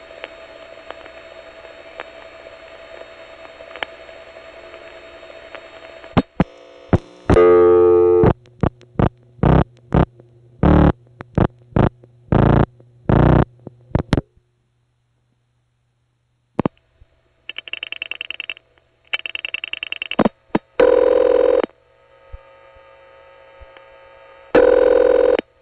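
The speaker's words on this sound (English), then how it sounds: "Let's listen to the trunk noise. Did you hear those MFs?" Telephone trunk line from a 1970 New York City routing recording: steady trunk hiss, then a rapid burst of short MF pulses and clicks, followed by further two-tone bursts and beeps, all clear with no talking.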